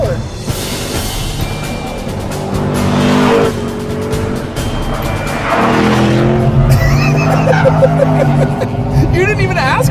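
Chevrolet SS sedan with a 6.2-liter V8 roaring and revving hard as its tires squeal through mid-corner oversteer, the screech rising and swelling under continuous close engine noise, with voices talking over it.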